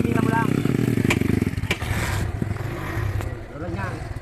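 A motorcycle engine idles and revs during a riding lesson, its throbbing pulse loud at first, then easing and rising again, with a voice talking over it.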